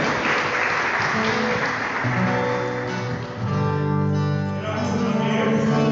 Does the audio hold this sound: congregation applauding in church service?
yes